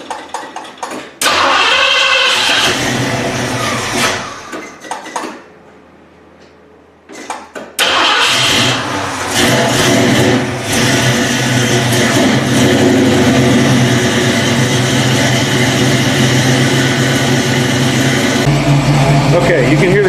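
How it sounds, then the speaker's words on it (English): A car fitted with a new all-aluminum Alloyworks radiator cranks over and its engine catches after a quiet pause, then settles into a loud, steady run close by, with some talk early on. "you can hear the cars running"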